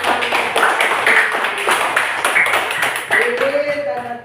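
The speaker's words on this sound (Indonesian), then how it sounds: "tepuk tangan." A short burst of hand clapping from a classroom of children praising a pupil in an Islamic religious education lesson, brisk and uneven, mixed with a teacher's voice speaking over it.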